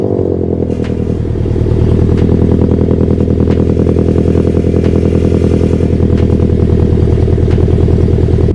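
A Scion FR-S with aftermarket headers on a cold start, a loud, steady, raspy idle with a throbbing exhaust pulse that holds from start to finish, close to the car.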